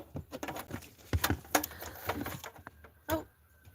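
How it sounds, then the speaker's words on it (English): Seagulls calling near a campsite by Bar Harbor in the Acadia Mountains at night, a series of sharp, irregular cries and squawks at moderate distance over faint background noise, with one louder call near the end. "Oh, those are the seagulls."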